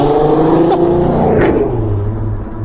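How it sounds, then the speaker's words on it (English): A car on the road revs its engine hard beside an e-bike rider, a loud close roar that climbs and sweeps in pitch, then eases off and fades. "Fucking revs his engine at me"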